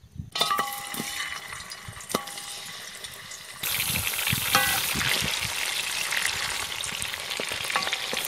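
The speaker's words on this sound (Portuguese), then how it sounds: "Começar fritando a suã." Pork spine sizzles and crackles in hot oil, a steady frying hiss that grows louder partway through, with occasional pops and stirring clinks.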